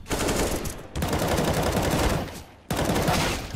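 Rapid bursts of P250 pistol gunfire in Counter-Strike, loud and close, in three dense clusters separated by brief gaps.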